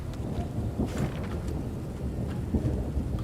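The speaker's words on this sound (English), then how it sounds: "This rain's bloody miserable, though." Steady rain with rolling thunder in the game Thronebreaker: The Witcher Tales, a continuous wash of rainfall under soft low rumbles, with no voices.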